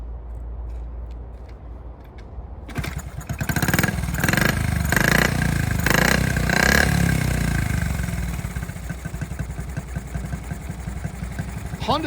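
An original, unrestored Honda Z50 minibike starts from cold. After a low background rumble the small engine catches suddenly and revs in a few quick bursts. It then settles into a fast, rattly idle, close and fairly loud.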